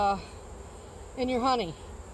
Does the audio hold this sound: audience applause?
no